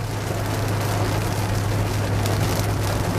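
Heavy rain drums steadily on a 2021 Honda Accord 1.5 Turbo EL while it drives, a dense continuous wash with a low cabin hum beneath and no talking.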